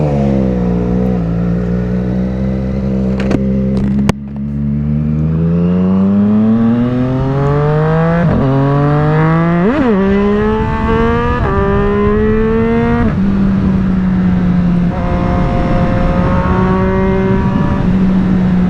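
Triumph Street Triple 765R with an SC Project exhaust revs hard and loud, engine pitch climbing and dropping through repeated throttle blips, a sharp crackle near the start and steady close roar throughout.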